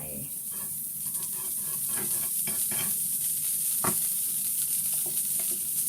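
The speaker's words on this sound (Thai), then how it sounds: "เราจะตั้งกระทะแล้ว ใส่เนยเข้าไปนะคะ" Butter sizzles and hisses steadily in a hot frying pan for pancakes, with occasional light scrapes and clinks of a utensil stirring.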